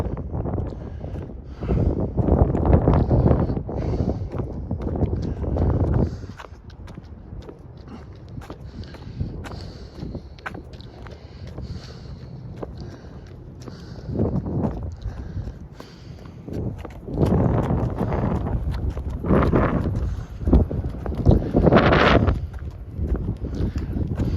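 Gusty wind buffets the microphone high up on an outdoor night walk, with loud low rumbling surges that come and go in bursts alongside steady footsteps.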